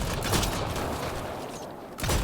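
Gunfire at a volatile canister in Mass Effect: Andromeda: a loud, dense stream of shots and crackling bursts fills the clip, with a sharper blast at the end, close and without speech.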